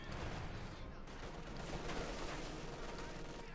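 Rapid, continuous MG-42 machine-gun fire mixes with other gunfire and battle noise in a Company of Heroes 2 match, muffled and low in level, with a commentator talking over it.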